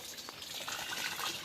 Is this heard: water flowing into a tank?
yes